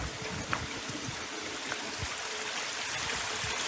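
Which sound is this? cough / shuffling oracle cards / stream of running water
stream of running water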